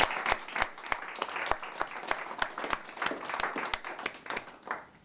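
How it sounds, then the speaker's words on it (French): Audience at a cultural association event applauding a performance of Iranian song, a moderate crowd clapping with sharp individual claps audible, steady and fairly close, with no talk over it. "Vous allez avoir mal aux mains si vous applaudissez à chaque fois."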